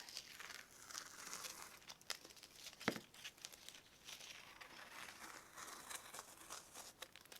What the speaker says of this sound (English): I love peeling up the tape.